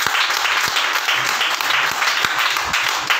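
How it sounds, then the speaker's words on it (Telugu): A congregation at an all-night prayer meeting in Piduguralla claps loudly and continuously, a dense, even wash of hand claps with occasional sharper individual claps standing out. "చప్పట్లు కొట్టి, గట్టిగా చప్పట్లు కొట్టి ప్రభువుకు స్తోత్రం చెప్పండి"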